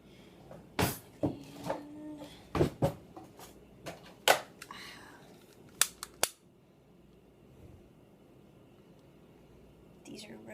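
A lighter is clicked over and over to light rose-scented incense. About a dozen sharp, close snaps come in an uneven series over six seconds, followed by quiet, with brief soft voice sounds in between.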